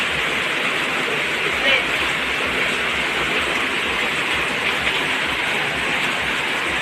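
Steady afternoon rain hisses continuously, a dense wash of falling water with no breaks, fairly close and even in loudness throughout.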